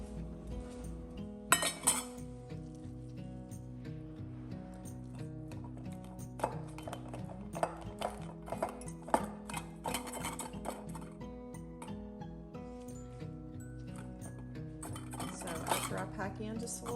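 Shredded cabbage and vegetables for Latin curtido being packed into a glass jar, a series of irregular clinks and taps of utensil on glass over a soft, sustained tonal background.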